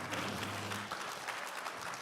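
An audience claps for a policing panel discussion in Stanislaus County, a soft, steady wash of many hands heard from some distance.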